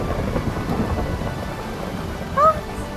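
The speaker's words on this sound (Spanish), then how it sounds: "creo que va a llover." Low rolling thunder and a steady hiss of rain beginning over an outdoor campsite. The rumble stays fairly loud and continuous throughout, with a short rising tonal chirp near the end and no voices.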